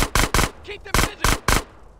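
Gunfire in the GTA San Andreas video game, including sniper shots: six sharp loud shots in a quick irregular volley within two seconds, with a brief faint voice-like sound between them.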